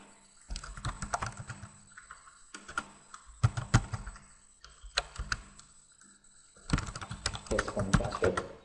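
Login credentials being typed on a computer keyboard: bursts of quick, close key clicks in uneven runs separated by short pauses, with faint voices underneath.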